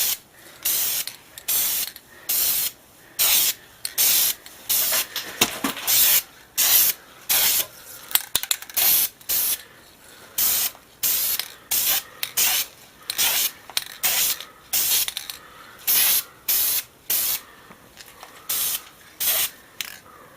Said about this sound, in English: get your spray paint. Take it up. And you want to do fast sprays across.